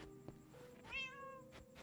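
A cat meows in Minecraft Dungeons, one clear, rising and falling call near the middle over faint game background sounds.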